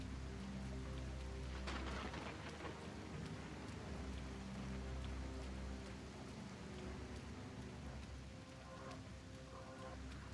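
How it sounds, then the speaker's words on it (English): Steady rain falls in the Sengoku Dynasty video game, a dense continuous hiss of drops with a low rumbling bed underneath, with no voices. "It's raining, because of course."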